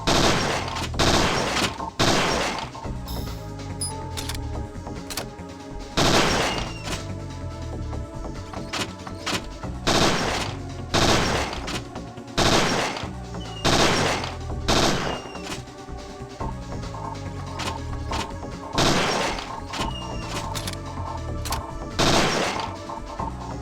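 Repeated gunshots from a Parasite Eve 2 video game, sharp loud bursts of game gunfire firing again and again in rapid irregular volleys, with shattering impact effects between them and no talking.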